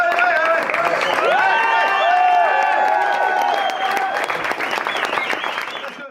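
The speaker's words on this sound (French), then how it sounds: "Si vous voulez bien encore l'applaudir pour la prestation." Audience applause after a poetic speech performance at a live event, a dense sustained wash of clapping with a few cheers lasting several seconds, loud and close, with whistle-like tones running through it before it slowly thins out.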